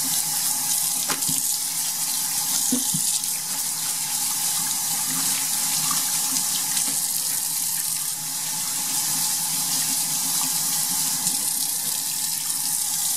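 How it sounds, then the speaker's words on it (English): Tap water runs steadily onto a projection screen, rinsing its coated surface clean. The broad, continuous splash holds at an even level the whole way through, with no voices over it. "So now I'm going to come over here, rinse it off."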